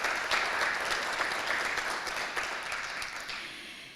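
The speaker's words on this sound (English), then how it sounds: "Round of applause." Audience applause at an Arizona Town Hall gathering on education funding for former president Shirley Agnos, steady, dense clapping from a room full of people that slowly fades over a few seconds.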